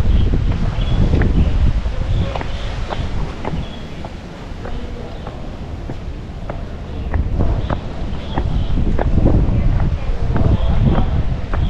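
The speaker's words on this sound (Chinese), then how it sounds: "上到嚟呢度仲大风啊！" Strong wind blows outdoors in Macau during a storm, buffeting the microphone in loud rumbling gusts that rise and fall, with rustling and small knocks scattered throughout.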